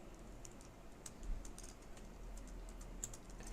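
Typing HTML on a computer keyboard, heard as a steady patter of soft, close key clicks with scattered louder taps and light low handling thumps, without speech.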